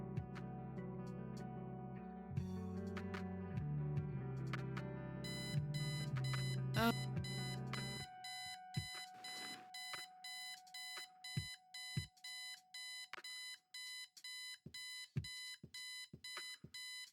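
Kathy Rain's in-game alarm clock rings in loud, regular electronic beeps after a stretch of busy music, repeating steadily and alone until the end.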